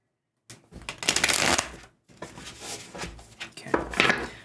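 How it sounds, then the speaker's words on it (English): A deck of tarot cards is shuffled by hand in three quick riffling bursts separated by brief pauses, close and crisp with no voices. "One more shuffle here."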